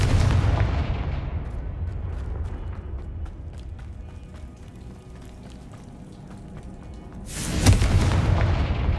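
Bombarda spell blasts in the video game Hogwarts Legacy: a steady rumbling, crackling barrage of booms, swelling into a loud, sharp explosion near the end.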